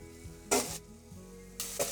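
Onions softening in butter sizzle steadily in a pan, with two louder bursts of hiss as they are stirred, set against a low tonal hum.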